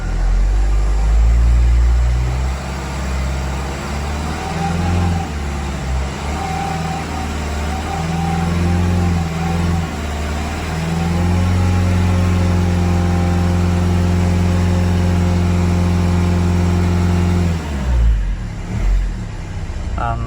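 Nissan NV200 van with a 1.5 dCi diesel engine held at raised revs after a filter change, a loud sustained drone that climbs and steadies before dropping away near the end, with a voice speaking over part of it.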